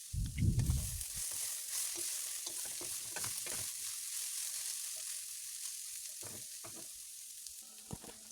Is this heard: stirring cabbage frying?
yes